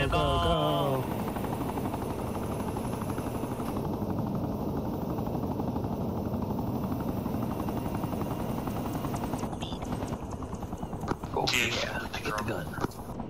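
Continuous rhythmic thumping of helicopter rotors with engine whine in the video game Arma 3, loud and close, while voices talk over it and a few sharp bursts break in near the end.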